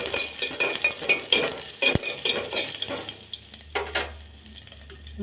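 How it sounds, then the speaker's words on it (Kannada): Food frying in oil for hotel-style curd rice crackles with a loud, steady sizzle, while a utensil stirs and scrapes the pan repeatedly close by. A sharp knock lands partway through. "ಆಮೇಲೆ ಚೆನ್ನಾಗಿ ಎಣ್ಣೆಯಲ್ಲಿ ಫ್ರೈ ಮಾಡುತ್ತೇವೆ"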